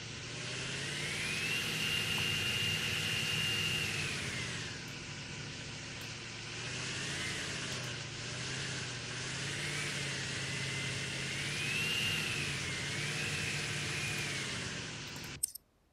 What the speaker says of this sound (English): you can hear that it'll spool up faster than the first time. Right away when you hit the throttle.